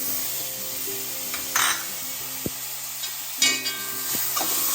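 Curry leaves, green chili and tomato sizzle steadily in a pan for a bread and egg dish, with a few sharp spoon clinks and stirring scrapes over the constant close frying hiss.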